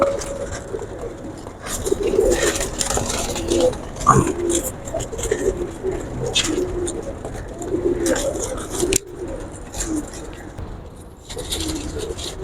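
Pigeons on a rooftop coo in low, repeated throaty phrases close by, with scattered handling noises and occasional voices in the background.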